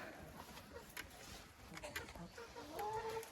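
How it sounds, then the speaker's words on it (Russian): A young cockerel crows in a backyard poultry enclosure, a short rising call standing out near the end over faint clucking and general coop noise. "Это петушок. Он уже красиво кукарекает."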